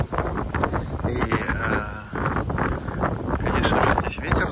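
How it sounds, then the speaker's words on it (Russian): Wind blows across a hotel rooftop with pools, a rough, gusty roar buffeting the microphone continuously and loudly, while a person talks over it. "здесь ветер дует"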